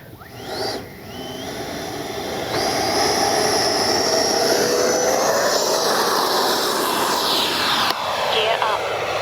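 A Freewing Avanti S 80mm electric ducted-fan RC jet spools up and takes off, its high whine building into a loud, steady roar that holds close by, with faint voices and outdoor noise underneath.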